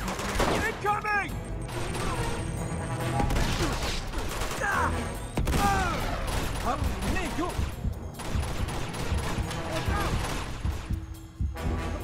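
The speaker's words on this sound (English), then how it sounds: "Probably should get on that turret." Rapid turret gunfire in Uncharted 2, bursts of shots crackling over the full length amid explosions and clattering impacts, with voices shouting over the noise.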